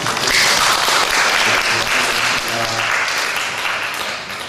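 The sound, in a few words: congregation applause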